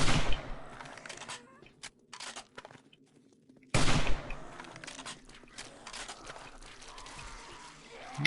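Exploding crossbow bolts fire during a horde night in 7 Days to Die on PS4, with scattered sharp blasts, one heavy burst midway, and rattling impacts among faint game noise.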